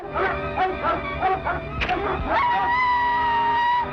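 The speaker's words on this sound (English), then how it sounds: "The only time he seems enthusiastic is when Spike is attacked by dogs." Dogs bark and howl in a 1940s film serial, several animals yelping over one another with a rising howl near the end, loud and busy over an old, noisy soundtrack.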